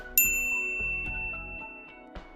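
A bright notification-style ding rings out once, sharp at the start and then ringing on with a long, shimmering decay, joined by a soft low tone and a small second chime near the end.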